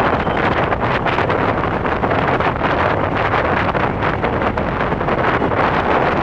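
A 2015 Zero SR electric motorcycle ridden at full throttle during a demo ride in Woodbridge, Virginia, heard as a loud, steady rush of wind noise that fills the whole clip, with no voices.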